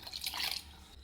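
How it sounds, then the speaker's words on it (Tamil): Water is poured into a pot of lentil sambar, giving a short bright splashing rush that tapers off within about a second. "பருப்பு சாம்பாருக்கு தேவையான தண்ணி ஊற்றிக்கலாங்க."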